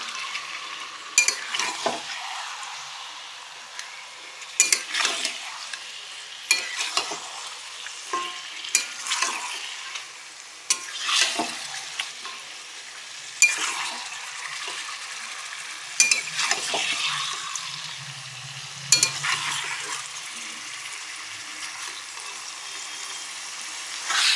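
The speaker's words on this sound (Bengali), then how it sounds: "চলো আমি মাংসটা কষে নিই একটু ভালো করে" Chicken sautéed in a pan sizzles quietly while a spatula scrapes and stirs in regular strokes every couple of seconds, each stroke a brief rasping burst over the low frying hiss.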